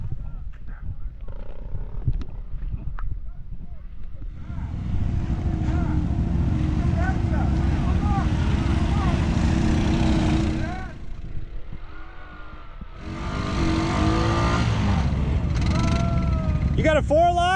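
An Argo amphibious off-road vehicle runs its engine through muskeg on a rainy outing, a loud continuous drone that swells and dips as it works, with people talking over it.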